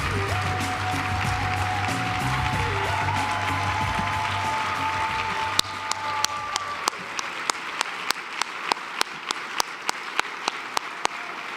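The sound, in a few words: audience applause at an awards lunch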